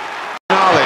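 Football crowd at West Ham United against Manchester United in 1996 roaring for a West Ham goal, a dense broadband wall of cheering broken by a brief dropout, then returning louder.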